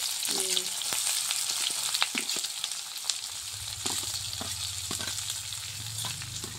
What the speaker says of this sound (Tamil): இப்போ வந்து வெங்காயம் வந்து போட்டுக்கலாம். எண்ணெய் வந்து கொதிச்சு.